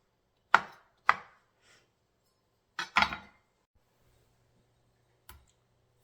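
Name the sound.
knife chopping onion on cutting board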